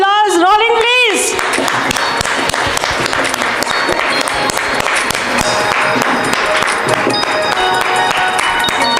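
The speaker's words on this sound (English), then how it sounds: "May we have the round of applause rolling, please?" An audience at a lab launch event applauding, a loud sustained dense round of clapping that follows a brief spoken voice at the start.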